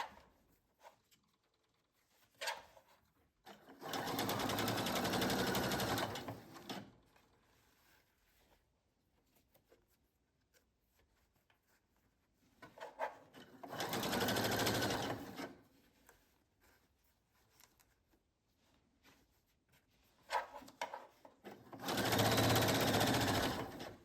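A sewing machine stitches elastic onto a puffed sleeve in three separate runs of a few seconds each, a close, steady whirring hum broken by quiet pauses with small handling clicks.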